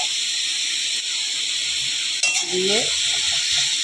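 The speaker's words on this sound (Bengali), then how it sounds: "কালো জিরে সম্বরা দিচ্ছি, কাঁচা লঙ্কা শুকনো লঙ্কা তেলের মধ্যে দিয়েছি" Black cumin with green and dried chillies sizzles loudly in hot oil, a steady broadband frying hiss throughout with a brief stir and a short spoken word partway through.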